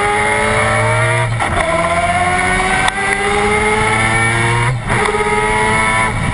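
A Mazda 787B race car with a 2.6-litre four-rotor engine screams loudly at high revs, rising in pitch through gear changes with brief dips between shifts.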